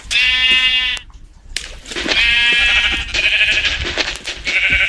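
Loud, nasal Minecraft sheep bleats repeat in bursts with brief gaps, clearly synthetic and close, with no talking.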